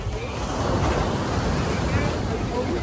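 Strong ocean waves surging around a cruise ship at sea near Nassau, Bahamas, a loud, continuous rushing wash mixed with steady wind buffeting the microphone.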